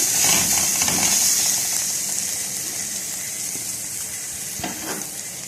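Onions frying in a pan for a green bean dish, a loud bright sizzle that eases slightly over the seconds, with a couple of soft stirring knocks near the end and no talk.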